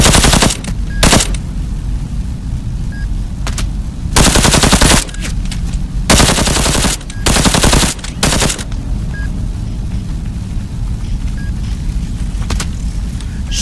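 Video game gunfire in the VR shooter Into the Radius 2, loud automatic bursts in several clusters over a constant rumbling background, with quieter stretches between them.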